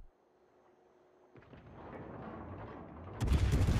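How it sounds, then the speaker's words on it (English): A warship's shell salvo in World of Warships: quiet at first, then a sudden loud boom, a rolling rumble, and an even bigger burst of fire at the end. "I'm firing 9 shells, landing 3?"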